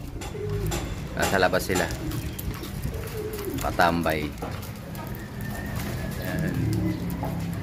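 Pigeons coo softly outside a loft, low rolling calls repeating under someone speaking, with faint clopping and shuffling sounds in the background.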